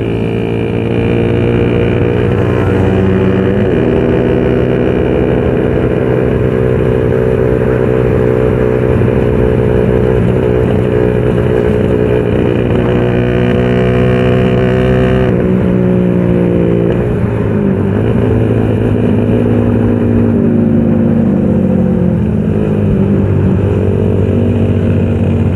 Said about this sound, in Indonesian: enak banget ini motor